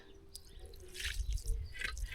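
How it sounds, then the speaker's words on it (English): Rice is washed by hand in a basin of water in a rural African village, with soft splashing and dripping sloshes rising near the mic over a couple of seconds. "I'm just gonna bring some more water and continue washing the rice until the rice is clean"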